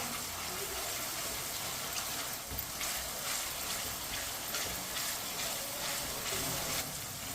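Tomatoes cooking in a pan over a high flame give off a steady, dense hiss with soft sputters throughout, fairly quiet and uninterrupted.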